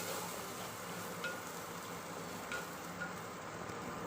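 Chana masala spices sautéing in a pan give off a soft, even sizzle that holds steady throughout, with occasional faint stirring scrapes and no voices.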